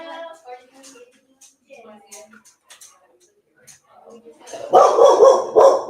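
A voice talks at first, then a dog breaks into loud, close, repeated barking that carries on to the end.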